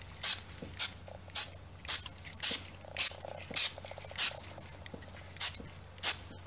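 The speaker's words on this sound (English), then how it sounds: "I'm gonna use this spray adhesive. Just spray a little bit on here" Aerosol spray adhesive released in a run of about ten short, sharp hissing bursts at a steady rhythm, close and loud over a faint low hum.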